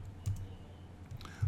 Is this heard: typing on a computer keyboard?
yes